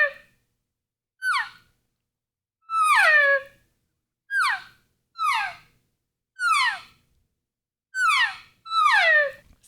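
An elk caller imitates cow and calf elk: eight separate high, whistly mews, each sliding downward, some bunched in pairs, spaced a second or two apart with quiet gaps and no talking.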